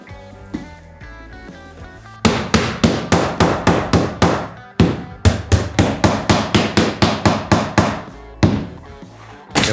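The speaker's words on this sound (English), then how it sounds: "I make sure to hammer the floor firmly and install the plywood underlay above it." Hammering old floorboards down onto floor joists in a sunken house entrance during a carpentry renovation: rapid runs of sharp, loud, close hammer blows on wood, in fast rhythmic bursts separated by short pauses.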